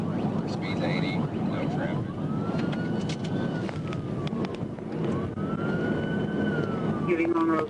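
Police car siren wailing through a traffic stop and pursuit, rising and falling tones over constant road and engine rumble, continuous and fairly loud.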